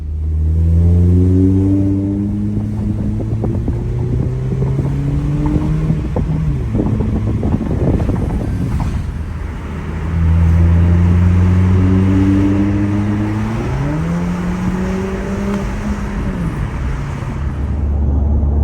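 A 2019 Toyota Camry fitted with a Magnaflow full catback exhaust, heard from inside the cabin while driving: a steady low exhaust tone that rises and falls with two acceleration pulls, mixed with road and wind noise.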